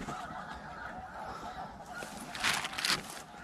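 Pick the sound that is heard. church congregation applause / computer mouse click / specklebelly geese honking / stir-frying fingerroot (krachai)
specklebelly geese honking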